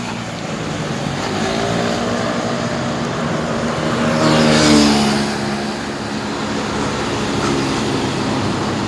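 Cars pass along a road in a steady, continuous traffic rumble, with one vehicle swelling louder as it goes by midway, then fading back into the flow.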